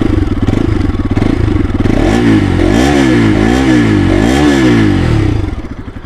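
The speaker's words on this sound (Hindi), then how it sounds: "आप सुन सकते हैं इस बाइक का एग्जॉस्ट नोट।" A 2023 Bajaj RS 200 motorcycle idles with a steady throbbing exhaust note, then is revved several times in quick swelling bursts before settling back, loud and close with no talking.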